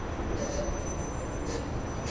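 A steady low rumble of a Long Island Rail Road commuter train at Jamaica Station, Queens, with faint high squeals briefly rising over the constant roar.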